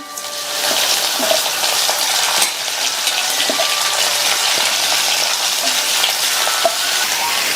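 Loud, continuous sizzle of eggplant frying in oil on high flame, broken by occasional clinks and scrapes of a spoon stirring.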